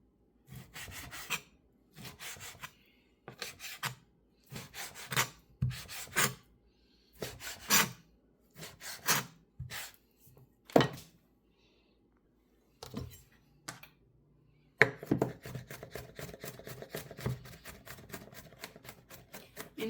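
Knife chopping vegetables on a cutting board while cooking spicy garlic bacon spaghetti: a run of close, rhythmic chopping bursts with short pauses, then a faster, denser stretch of cutting near the end.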